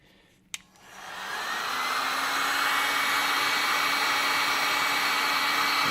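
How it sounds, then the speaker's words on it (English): A heat gun clicks on and ramps up into a steady, loud blowing whoosh with a faint whine, held constant while shrinking wrap around a magnet-fishing magnet. "Okay, so we got the heat gun."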